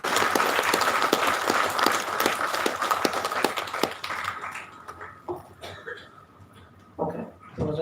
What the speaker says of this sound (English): let's all give it one round of applause